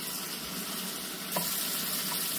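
Tomatoes softening in a pan for dal tadka give off a steady, close, low sizzle with faint watery bubbling, and a soft clink near the middle.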